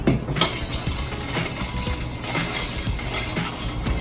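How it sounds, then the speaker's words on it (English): Continuous scraping and clinking as a sugar mixture for Jamaican cornmeal pudding is stirred in a bowl, a steady close-up churn with a sharper knock near the start. "I'm stirring all of this until the sugar dissolves"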